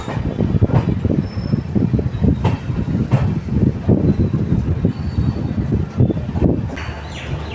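A train rolls through the railway station at Hubli, Karnataka, with rhythmic clattering of wheels over rail joints, metallic squeals and rumbling heard close and continuous.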